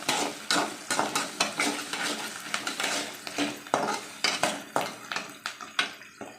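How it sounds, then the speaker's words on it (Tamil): Onions sauté in a pan for a peanut kara kuzhambu, a soft sizzle running underneath while a spoon scrapes and clinks against the metal in a steady, repeated stirring rhythm, close and fairly loud. "இப்போ வெங்காயம் வதங்கட்டும்"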